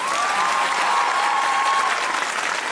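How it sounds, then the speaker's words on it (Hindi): Studio audience at a comedy talk show bursts into steady, loud applause, a dense sustained clatter of many hands lasting a few seconds, with a faint tonal whistle drifting over it. "तालियों से बताएं मलिक साहब अच्छे।"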